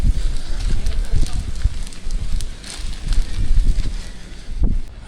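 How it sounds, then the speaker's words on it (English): Cool wind blowing outdoors on a leisurely Saturday afternoon near a church and castle, a steady loud rushing gust buffeting the microphone with brief swells, while someone talks over it. "Ooh, cool wind as well."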